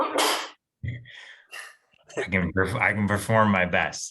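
A person lets out one sharp, breathy sneeze at the very start, followed by a brief pause and then someone talking close to the microphone.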